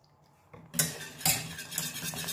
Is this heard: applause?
no